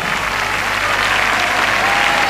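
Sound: audience applause at Quinta Vergara, Viña del Mar festival

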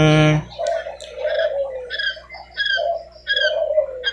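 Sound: quail calling

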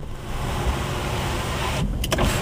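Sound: power sliding rear window of a 2009 Ford F150 Platinum

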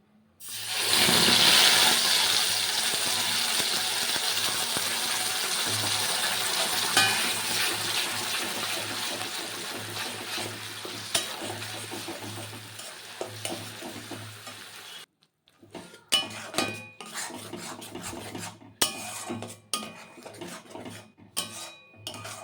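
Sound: frying ingredient in hot oil

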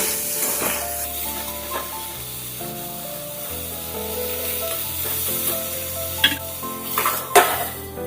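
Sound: salted eggplant pieces frying in covered pan

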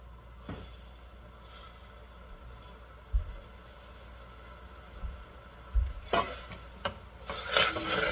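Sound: stirring seasoning powder into boiling water

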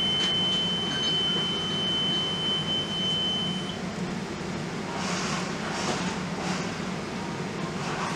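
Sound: oil mist detector alarm triggered by smoke testing gas

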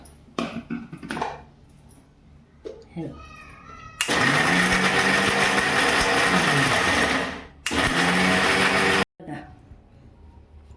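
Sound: mixer grinder grinding coconut

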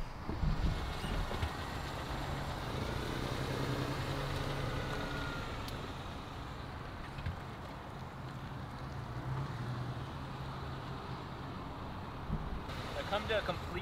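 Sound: Honda Insight car engine noise

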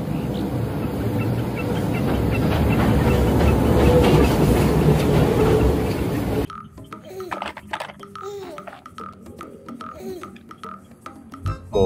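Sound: toy Thomas train running

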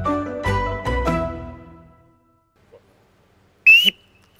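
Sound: navy boatswain's pipe whistle being blown

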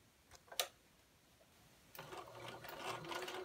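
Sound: sewing machine sewing a seam in fabric

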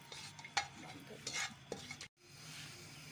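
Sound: whole garam masala spices frying in hot oil

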